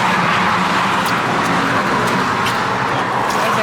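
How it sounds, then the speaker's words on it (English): Steady road traffic in Memphis heard from inside a moving vehicle, a loud, continuous broadband roar of cars and engines with no distinct pass-bys, filling the whole stretch without pause. "Currently, we are right smack dab in the middle of Memphis traffic."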